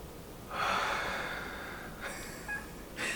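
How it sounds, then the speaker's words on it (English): A single deep breath drawn in close to the microphone, a long airy inhale followed by shorter breathy exhales, quiet with no talking. "I'm gonna take a deep breath."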